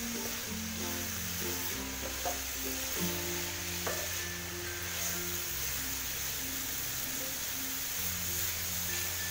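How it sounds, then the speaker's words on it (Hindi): Grated carrots roast in a pan for gajar halwa, giving a steady low crackling sizzle throughout with faint stirring, over a background hum of sustained tones. No one speaks. "जैसे हांडी भूनते हैं इसी तरह की आवाज़ आ रही है।"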